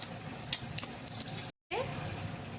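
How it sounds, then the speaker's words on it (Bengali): Eggs frying in hot mustard oil in a pan, a close, crackling sizzle with sharp spatters, cut by a brief silent gap before the sizzling resumes. "তেলে ডিমগুলো দিয়ে এই যে ফ্রাই করে নেওয়া হচ্ছে"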